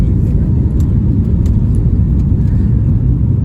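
Airliner accelerating down the runway for takeoff, a loud steady low rumble heard from inside the cabin, with a spoken voice partly mixed in.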